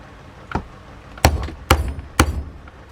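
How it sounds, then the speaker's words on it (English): Hammer strikes on leather while making a possibles pouch: one lighter tap followed by three sharp, close knocks at a steady pace, with quiet pauses between them. "Find my hammer."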